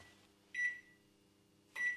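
Microwave oven melting chocolate with its turntable not spinning gives a faint, steady low hum, broken by two short, bright electronic beeps.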